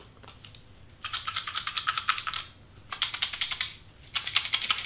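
Star-shaped confetti rattling inside a baby shower shaker, three bursts of quick rhythmic crisp rattles with quiet gaps between them, faint and close.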